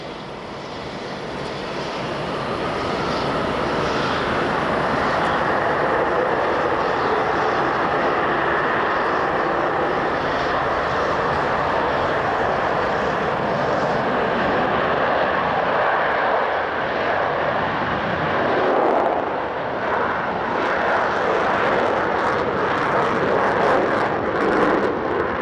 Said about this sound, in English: as Concorde prepares to return empty to London